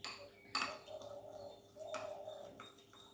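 A spoon scrapes and clinks against a bowl while a gram flour face pack is stirred, with a few sharp taps and softer scraping strokes, close and fairly quiet, no talking.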